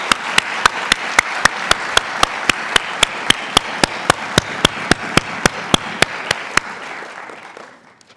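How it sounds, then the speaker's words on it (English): Audience at a College of Nursing white coat ceremony applauds future nurses: a steady wash of clapping with a sharp, regular single clap cutting through near the mic, fading out at the end. "Join me, audience, in a round of applause for this distinguished group of future nurses."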